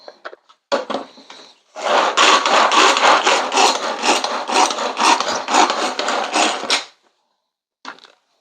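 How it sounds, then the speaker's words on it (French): A spicy Big Mac-style sauce mixture coloured with paprika is chopped in one loud, continuous, coarse grinding burst of about five seconds, with a few brief knocks before and after. "on va hacher le tout."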